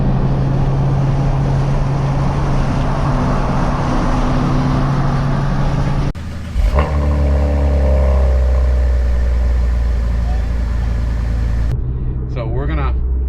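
A Cadillac ATS-V twin-turbo V6 on its stock exhaust gives a steady low drone, then a blip and deeper rumbling idle, with people talking over much of it.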